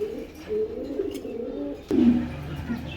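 A pair of big Giant Homa pigeons coo in low rolling calls, close by, with a sharp knock partway through followed by a louder coo.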